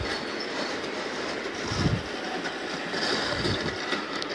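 G scale model train pulling a Rio Grande boxcar, McDonald's and Coca-Cola cars, a coal wagon and a caboose around a track, a steady rolling rumble with soft clickety-clack from the wheels, close by and continuous with no talking.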